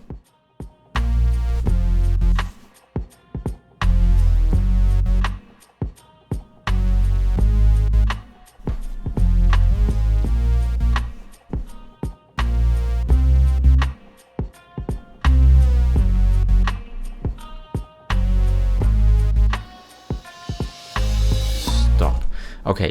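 Cubase-produced beat built on a drum loop of kick and snare with hi-hats and synth bass, playing loud and steady in bar-length phrases with brief drop-outs, ending in a rising noise sweep.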